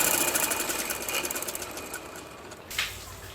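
A sewing machine stitches fabric for a peplum frock, giving a fast steady mechanical whir and needle rattle up close. The machine then stops, leaving a brief quieter handling noise.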